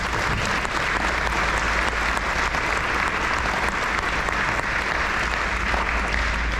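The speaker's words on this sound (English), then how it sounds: "Can we give them a round of applause?" A crowd at a high school Navy JROTC change of command ceremony gives sustained, loud applause for the unit leaders, a thick, unbroken roar of clapping from start to finish.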